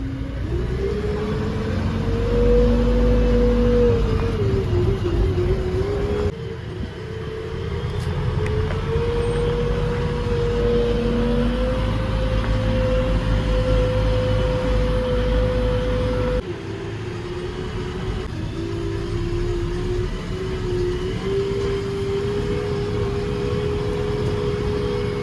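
A JCB 3DX Plus backhoe loader drives steadily with a low diesel engine drone that rises and dips slightly, close and continuous, with no talking.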